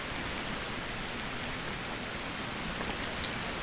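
Rain pours in a survival video game as a continuous, even hiss of droplets with a single faint tick near the end and no speech.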